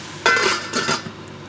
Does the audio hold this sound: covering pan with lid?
yes